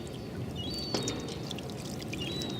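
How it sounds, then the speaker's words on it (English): Fresh water steadily pouring and splashing to rinse salt water off a hydrophone on a boat deck, a continuous close rushing wash with one brief knock partway through. "Rinse off the hydrophone."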